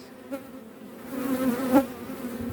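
Honey bees buzz steadily around wooden hive frames in winter, a close, continuous droning hum that swells slightly toward the end, with no talking.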